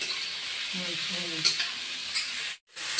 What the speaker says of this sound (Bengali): এখন আমি 1 মিনিটের মতো ভেজে নেব আলু আর বরবটি।